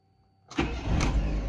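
A 2001 Fiat Palio engine cranks and catches after the key is turned, following a brief quiet moment, then settles into a loud, steady idle up close.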